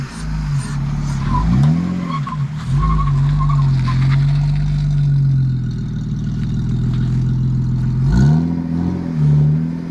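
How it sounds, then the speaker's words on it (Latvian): A BMW E46 engine revs hard during a burnout attempt: loud, close revs climb and fall into a sustained high-rpm drone. A brief tire squeal rises, then a fresh rev surge comes near the end. "Uztais burnauti, dai pamēģinām burnauti"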